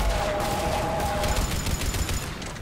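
Rapid Harvester gunfire in Mass Effect 3 rattles in dense bursts of five over a constant noisy background, with a brief electronic tone near the start.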